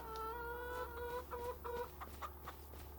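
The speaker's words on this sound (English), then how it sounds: "Okay, we've got chickens." Chickens cluck steadily in the Farming Simulator 25 game on the Ladyhill map, a close, continuous flock of overlapping clucks and short calls over a constant low hum, with no talking.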